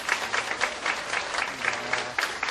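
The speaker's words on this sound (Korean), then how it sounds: "큰 박수로 환대하겠습니다" A lecture audience applauds to welcome a professor, dense continuous clapping from a crowd held at an even, moderate level from start to finish.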